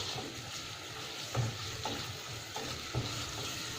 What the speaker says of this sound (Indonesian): Bawang merah dan bawang putih kita aduk, kita goreng dulu hingga wangi ya ibu-ibu.